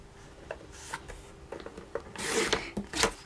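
Paper being cut for a handmade greeting card with a bookmark, a series of faint scraping and rasping strokes, with a brisker, louder cut near the end and no talking.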